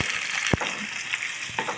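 Chopped capsicum frying briefly in a pan for Hubli mirchi rice, a soft steady sizzle with a couple of quick spatula scrapes.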